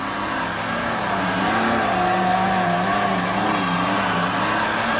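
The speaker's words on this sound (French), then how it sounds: "C'est des courses de dragster de tracteurs." A miniature tractor dragster race on a model layout at Miniatur Wunderland, with a steady, continuous motor-like engine drone and whine that holds at a moderate level for the whole stretch, no voices over it.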